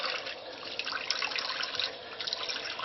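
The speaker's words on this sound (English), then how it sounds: "I'm going to get a little bit of water in my sink." Tap water runs steadily into a bathroom sink, a continuous close splashing hiss with no pauses, heard while preparing to lather shaving soap.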